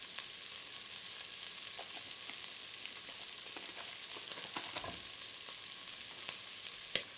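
Four sticks of butter melt in a pan for ghee, giving a steady, fairly quiet sizzle and crackle throughout, with scattered sharper pops and one louder spit near the end.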